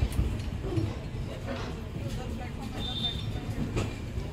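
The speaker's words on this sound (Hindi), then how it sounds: "ट्रेन अपनी आई है प्लेटफॉर्म 4 पे।" The Lucknow Mail passenger train pulls into platform 4 at Lucknow Junction with a steady, low rumble of rolling carriages heard from on board, moderately quiet and continuous throughout.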